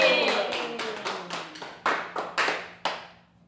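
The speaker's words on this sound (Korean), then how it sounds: "하나님 박수 영광." Church congregation clapping during a Korean Easter Sunday worship service, a run of sharp claps with some louder, separate bursts near the end, moderately close in a reverberant hall.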